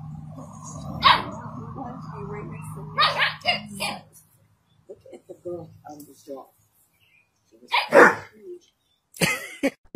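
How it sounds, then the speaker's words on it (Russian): A big dog lets out several deep, loud barks in separate bursts with short silences between them, close to the listener, while people talk in the background during the first part. "Большая собака решила показать маленькой собачке, как должен звучать настоящий лай."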